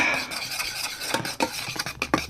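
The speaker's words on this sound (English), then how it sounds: "Bicarbonate of soda in there. And very, very quickly stir it in." A spoon rapidly stirs bicarbonate of soda into hot honeycomb sugar syrup in a pan, producing quick scraping and clattering strokes that grow sharper and more irregular as the mixture foams.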